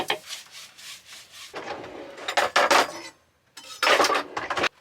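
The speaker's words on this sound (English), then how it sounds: "I just spray them down with white vinegar and water and then wipe them out with a paper towel." A paper towel wipes out dishes sprayed with white vinegar and water inside a van, heard as close, dry rubbing and scrubbing strokes in several bursts with short pauses between them and no voices.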